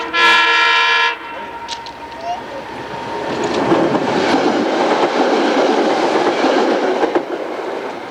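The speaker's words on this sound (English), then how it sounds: "Another train's coming." A train horn blasts loudly at the start, then a train rumbles past with a steady rolling clatter that fades slightly toward the end.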